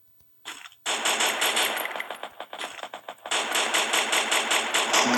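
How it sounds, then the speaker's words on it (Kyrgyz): Rapid automatic gunfire from the Free Fire video game, loud and close, in long sustained bursts with a few short pauses between strings of shots. "Бизди бирөө атып жатат достор."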